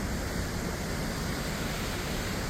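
A Norwegian waterfall pours in a steady, dense roar that fills the whole clip, loud and unbroken, with no voices over it.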